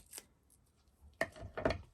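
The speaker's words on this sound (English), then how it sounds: "Remember to use my non-stick scissors this time" Two or three short, crisp snips of non-stick scissors cutting card, close by, separated by quiet pauses.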